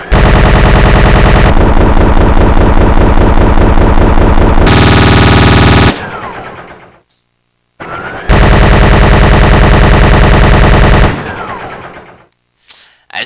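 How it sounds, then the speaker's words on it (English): Gatling gun firing in Resident Evil 3: Nemesis, two long, very loud, continuous bursts of rapid game gunfire separated by short pauses with echoing tails. "the next weapon is the Gatling Gun. A powerful weapon that enables you to scatter bullets with single trigger action."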